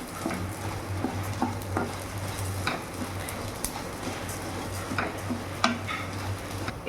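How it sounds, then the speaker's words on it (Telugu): Cumin and fenugreek seeds frying in a pan for homemade sambar powder: steady soft sizzle with scattered ticks and scraping stirs against the pan, fairly quiet and without talk. "అందులోనే జీలకర్ర వేసుకున్నాక మెంతులు. ఇవి కూడా కొంచెం ఫ్రై చేసుకోవాలి వీటితో పాటు."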